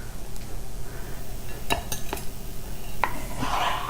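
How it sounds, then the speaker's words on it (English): Big metal spatulas scraping under a bacon log in a pan to loosen it, a few sharp clinks and scrapes over a steady low sizzle, ending in a rougher scraping rasp. "using your biggest spatulas, get underneath, get it all loose away"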